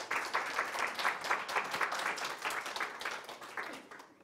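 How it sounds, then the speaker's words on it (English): A warm round of applause from an audience greeting a speaker at a genealogy talk, steady even clapping from a modest crowd that gradually tapers off. "So if you'll please give Tina a warm round of applause."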